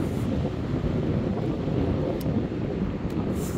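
Wind gusts hard across the microphone at the Samcheok seaside in Korea, a loud, continuous low roar mixed with broadband rushing, likely with surf underneath.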